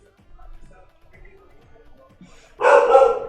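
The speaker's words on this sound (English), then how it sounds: "And that ooh woo coincide with Phoebe barking." A dog gives one loud, close bark near the end, after a stretch of faint low sounds.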